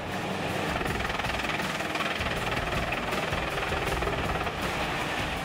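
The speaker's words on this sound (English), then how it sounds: "Pezzolato PTH1000/820M drum wood chipper uses a Caterpillar C15 engine with 540 horsepower." A Pezzolato PTH1000/820M drum wood chipper powered by a 540-horsepower Caterpillar C15 engine runs continuously, a loud dense rumbling roar with rapid rhythmic knocking that never lets up.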